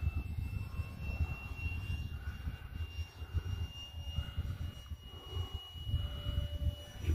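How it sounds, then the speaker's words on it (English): A small model fan jet aircraft whines steadily overhead, a constant high-pitched turbine tone over gusty wind rumble. "The fan jet flies."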